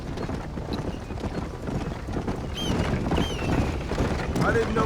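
Horse hooves clip-clop steadily in the Red Dead Redemption video game, a continuous rolling gait close by, with a few chirpy bird calls or squeaks appearing near the end.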